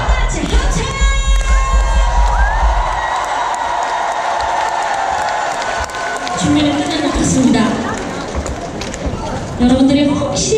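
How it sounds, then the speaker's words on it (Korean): Concert crowd at a live show in Daegu shouting back to the performer in call and response, loud massed cheering and whooping that swells and repeats between bursts of amplified voice. "제가 두 번 소리를 지르면 두 번 소리를 따라 질러주시면 되겠습니다"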